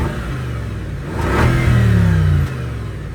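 A 2025 Bentley Flying Spur Speed engine revs briefly from idle, a near, deep mechanical rise that holds about a second before dropping back to a steady idle.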